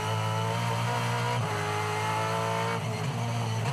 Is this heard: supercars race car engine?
yes